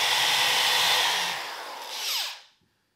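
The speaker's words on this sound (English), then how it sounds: "So we'll finish drilling up this last piece now." A power drill bores into a wooden sign piece, giving a loud steady whirring whine for a couple of seconds that briefly rises again before cutting off abruptly into silence.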